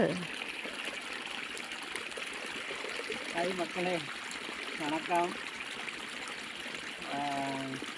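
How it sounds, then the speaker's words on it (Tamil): Steady trickling and splashing of water poured onto chayote plants, running continuously beneath a person speaking briefly in greeting. "சவுச்சவுக்கு தண்ணி ஊற்றிக்கிட்டு இருக்கிறோம்."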